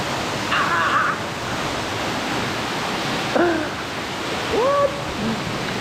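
Constant rushing of a canyon waterfall fills the scene, with a few brief voiced exclamations rising over the water.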